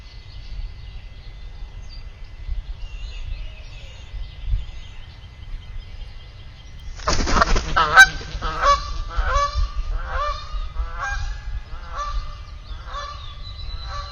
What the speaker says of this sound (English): We've never seen a goose actually land on the nest before.